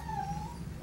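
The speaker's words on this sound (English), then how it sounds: "The other dog right now that's barking is her little buddy" A dog's high, drawn-out whining howl sounds from a short distance away over a low background hum, one sustained wavering cry.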